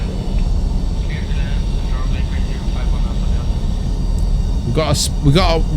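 An airliner's engines rumble and roar steadily while landing in a flight simulator game. The drone is loud and continuous, and a voice speaks over it near the end.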